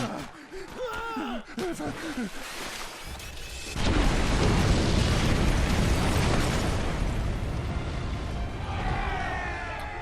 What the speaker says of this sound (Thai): เย้สะพานแตกครับ